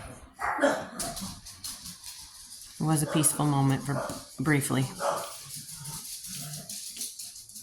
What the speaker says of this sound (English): The dogs are waking up.